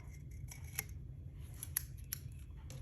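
Scissors snipping excess sublimation paper close to the rim of a 20 oz tumbler: a few quiet, crisp cuts spaced irregularly over a low background hum, near and faint.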